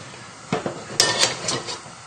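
Metal frying pans are shifted on a stovetop during cooking, giving a few sharp clanks and scrapes in quick succession, close and clear with no talking.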